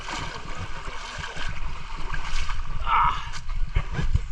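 A small boat runs over a river waterfall section in Jamaica, with rushing, splashing water and engine-like rumble throughout, plus a few sharp knocks near the end and faint voices in the background.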